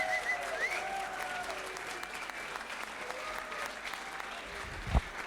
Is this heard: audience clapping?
yes